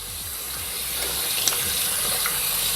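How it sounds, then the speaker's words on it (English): Tap water runs in a steady, close gush for under three seconds while body wash is rinsed off, a continuous bright hiss with no speech over it. "once you guys turn on the water to kind of wash it off"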